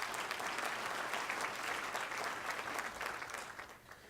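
An audience at a school district State of the Schools event applauds steadily for about four seconds, a dense even clapping that eases slightly at the end.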